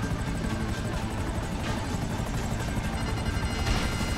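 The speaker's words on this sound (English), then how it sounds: "freaking chopper just flew right ahead of me" A helicopter in GTA V flies past with a steady, rapid rotor chop and engine drone, fairly loud and continuous, with no talking.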